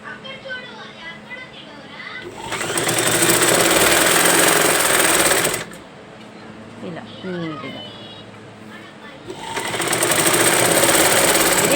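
A sewing machine stitches a blouse in two loud bursts of rapid, even mechanical whirring, each lasting a few seconds, with quieter pauses between where someone talks.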